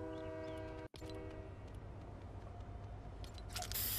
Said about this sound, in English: I just jumped on the train.